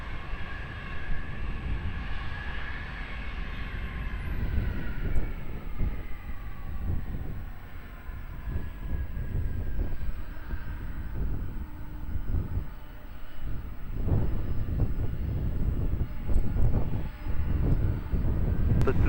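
A Turkish Airlines jet landing on runway 20 at Lisbon Airport, a long broad roaring rumble that swells and lingers throughout, heard from a distance outdoors.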